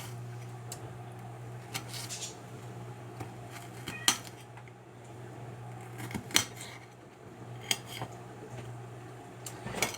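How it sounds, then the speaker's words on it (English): Knife chopping vegetables on a cutting board for vegetarian spaghetti with asparagus and onion, sparse sharp taps spaced a second or two apart over a steady low hum, close and fairly faint. "love the sound of chopping"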